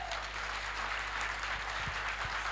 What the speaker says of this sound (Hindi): ताली बजा दो, ताली बजाओ।